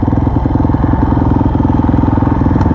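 A motorcycle on a dirt track running hard in second gear during an attempt at a 100-foot table-top jump, a loud, close, steady engine drone with a rapid pulsing note and no talk.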